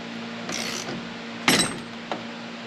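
Steering wheel puller being tightened on a 2004 Mustang, giving a few short ratcheting clicks close by, one louder burst in the middle, over a faint steady hum.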